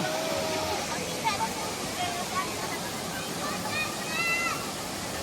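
Bolinao Falls, the Mother Falls, roars steadily at close range, a constant rushing wash of water with people talking and calling out over it.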